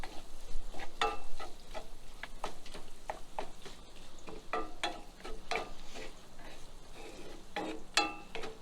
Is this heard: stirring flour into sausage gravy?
yes